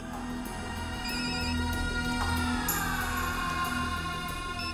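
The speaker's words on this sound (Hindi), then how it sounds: "फोन क्यों नहीं उठा रहा यार?" A telephone rings with a steady electronic ringtone over a sustained musical backdrop in a Hindi film scene, continuous and moderately loud with no voices.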